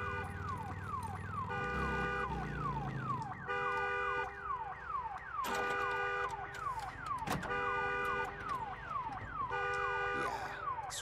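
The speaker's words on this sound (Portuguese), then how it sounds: "aquele carro tem alarme" A car alarm blares continuously in the video game Days Gone, a loud cycling wail with repeated pulsing tones and sweeping chirps, accompanied by intermittent thuds and clanks.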